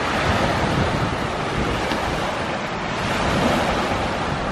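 Waves washing on a beach in Skagway, Alaska, a steady broad rush of surf mixed with heavy wind buffeting the microphone, constant and close.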